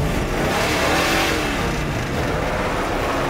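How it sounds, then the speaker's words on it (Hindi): A car engine revs hard and steadily at close range, a loud continuous roar with no voices over it. "गाड़ी को रेस कर गाड़ी को।"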